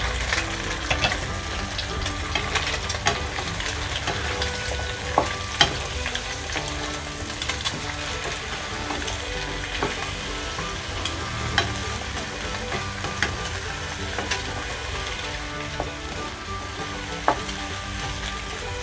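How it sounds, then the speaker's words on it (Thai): Duck egg being stir-fried with pumpkin in a pan, a steady oily sizzle with frequent sharp scrapes and clicks of a spatula against the pan, continuous and close, with no talking. "ผัดไข่ให้เข้ากับฟักทองได้เลยนะคะ"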